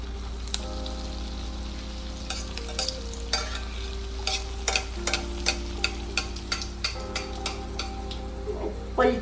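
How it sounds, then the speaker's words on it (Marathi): Potato nests deep-frying in hot oil, a soft continuous sizzle over a low hum, punctuated by repeated sharp clinks and scrapes of a utensil against the pan. "ती आता आपण छान गरम तेलात खरपूस अशी तळून घेऊयात."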